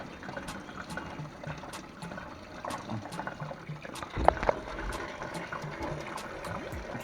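Coolant draining from a Ford Barra engine during a turbo conversion, a steady soft trickle and dribble of liquid running throughout, with faint scattered clinks and a brief louder knock midway.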